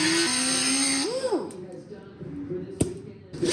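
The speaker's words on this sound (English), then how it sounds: "I'm going to clamp this thing into the vise and then cut the head off the bolt." A power tool whines steadily, then winds down, as it cuts the head off a carriage bolt clamped in a vise on a classic car bumper, with light background noise after.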